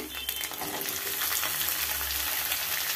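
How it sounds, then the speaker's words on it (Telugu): Onions and green chillies fry in a pan for an egg curry, a dense continuous sizzle close up with faint stirring scrapes, loud and unbroken with no talking. "దీంట్లో ఉల్లిపాయలు పచ్చిమిరకాయలు వేసేసుకుందాం"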